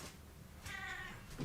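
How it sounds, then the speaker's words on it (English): A cat gives a single drawn-out meow, faint and somewhat distant indoors, with a soft thump just after it. "Meow, meow, meow."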